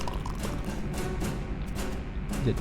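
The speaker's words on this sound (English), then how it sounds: "You pour it down the floor drain" In the video game West of Loathing, brewed milk pours steadily from a beaker down a floor drain as a continuous, fairly loud gurgling flow.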